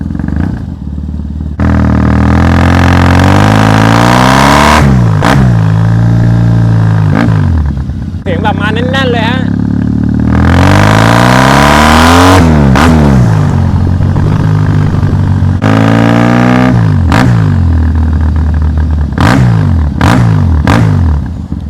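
A 2015 Triumph Thruxton 900 motorcycle with changed handlebars, lights and footrests being ridden, its engine loud and close, rising and falling through several revs and gear changes.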